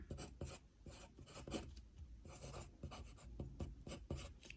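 A pencil drawing on paper in a small area with a tripod grip, quiet scratchy strokes in short repeated bursts, close and soft, with no talking.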